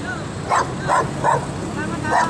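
A pet dog yips in four quick, sharp barks close by, over background chatter and traffic noise outdoors.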